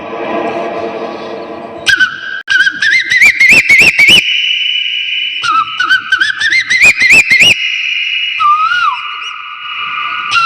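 A person whistles a rising, repeated birdlike call in bursts, imitating a cuckoo, with sharp clicks between phrases and a steady tone underneath.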